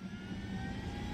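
Helicopter in Ghost Recon Wildlands, a steady droning engine and rotor hum held at an even level for the whole short stretch, with no talk over it.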